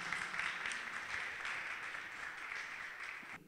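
Applause from an audience after a choir performance at a Christmas carol choir competition semi-final. A steady, dense wash of clapping runs throughout without a break, and no voices can be picked out.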